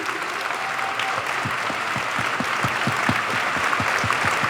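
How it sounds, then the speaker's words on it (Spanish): Audience applause at a book presentation in Argentina, a full room clapping steadily and close, with a faint rhythmic thump of synchronized claps running beneath the broad crackle of hands, no talk over it. "quiero que saludemos con un aplauso a Calica Ferrer, el amigo del Che Guevara, que está presente aquí"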